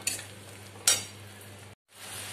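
Cashew paste sautéed in a pan for egg korma, a steady low sizzle under two quick scraping strokes of a spatula, close up, with a brief cut to silence before the frying resumes.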